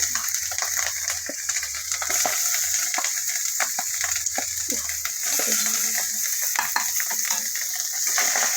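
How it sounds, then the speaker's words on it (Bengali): Chopped tomatoes going into spices frying in a pan, including ground black pepper paste: a steady bright sizzle overlaid with intermittent stirring scrapes and soft knocks, fairly close. "এবারে দিয়ে দেবো টমেটো কুচি"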